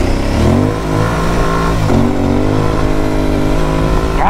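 An Aprilia Tuareg 660 adventure motorcycle in off-road mode accelerates hard, its engine note rising in pitch with a gear change midway, loud and close throughout.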